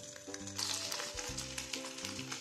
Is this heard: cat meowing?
no